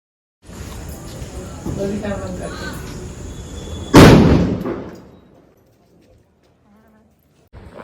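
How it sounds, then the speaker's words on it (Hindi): Diwali firecrackers go off outdoors as a single loud, sharp bang that decays over about a second. Voices talk before the blast, then the scene falls nearly silent. "यहाँ पे उनका पटाखा छोड़ना भी स्टार्ट हो गया, तो यहाँ पे वो अपने पटाखे छोड़ रहे थे"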